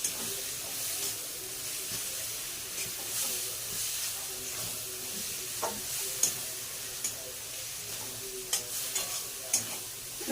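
Masala fries in a pan with torn green chillies, a continuous crackling sizzle with scattered pops and stirring scrapes, close and steady throughout.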